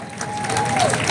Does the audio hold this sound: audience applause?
yes